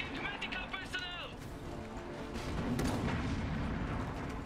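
Artillery fire in the real-time strategy game Iron Harvest, a dull rumbling boom swelling in the second half over busy battle noise, while a voice talks and short musical game cues sound early on.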